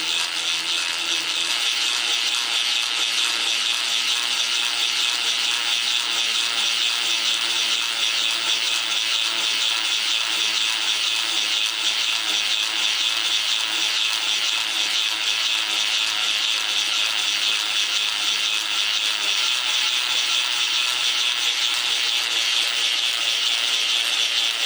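A milling machine spindle on a benchtop mill is run steadily back up for a vise check, giving a continuous, even mechanical whir and ratcheting hum that stays at a constant level, alone and close by, for the whole stretch.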